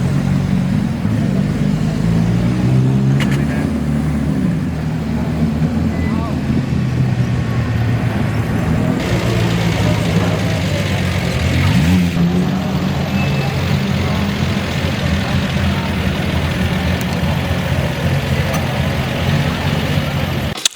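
Classic rally cars from the Gran Premio Nuvolari idle and drive past in Siena, a continuous low engine rumble with occasional rising revs, heard at moderate distance amid outdoor background noise.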